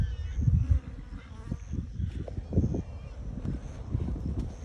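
Honeybees buzz around a brand-new first beehive on a ranch, a close, wavering hum of many insects coming and going, with light wind buffeting and someone talking over it.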